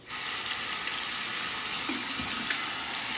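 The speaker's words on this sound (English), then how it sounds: "A quick rinse to the face." Steady running water splashing as a face is rinsed after a wet shave, a continuous close hiss with a faint splash partway through.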